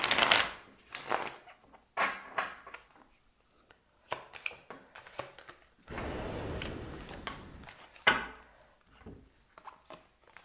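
Tarot cards being shuffled by hand in bursts of riffling and dry papery patter, with a longer continuous riffle midway and scattered taps and card slaps between, close and fairly quiet.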